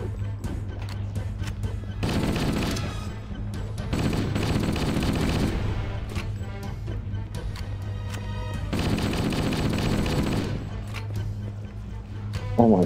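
Sustained gunfire in Halo: Combat Evolved aimed at the player, coming in long dense bursts of rapid automatic shots that swell, ease off and return, with a low steady game hum underneath throughout.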